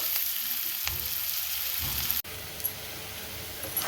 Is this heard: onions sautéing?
yes